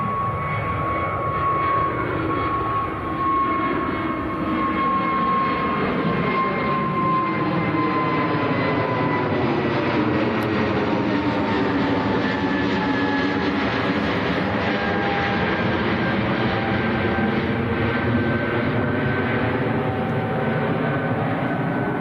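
Airbus A320neo airliner passing overhead at Manchester Airport, a loud sustained jet roar with sweeping whining engine tones that shift in pitch as it flies over, continuous for the whole stretch without voices.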